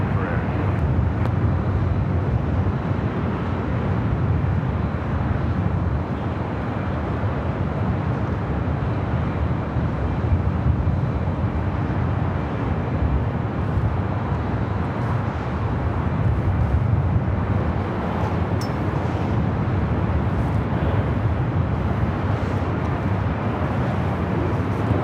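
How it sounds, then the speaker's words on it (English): A China Airlines Airbus A350 rolls down runway 25 right at LAX, producing a steady, loud broadband jet roar that carries for the whole stretch, mixed with gusty wind buffeting on the microphone. "China Airlines A350 rolling down 25 right."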